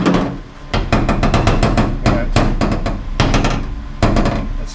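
Sheet metal on a 1973 Chevrolet Nova under restoration is pushed and tapped repeatedly, giving a rapid series of sharp, loud, springy metallic pops and knocks in bursts.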